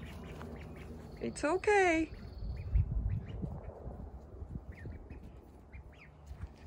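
One-month-old ducklings quack in a quick burst of calls outdoors, mixed with soft rustling. A person speaks gently nearby.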